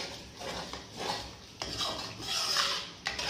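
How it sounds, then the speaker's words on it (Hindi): A spoon scrapes and clinks against a bowl while mixing chili flakes with crushed dried coriander, giving several close, steady rasping strokes with short pauses. "इन सबको अच्छे तरीके से मिक्स करेंगे"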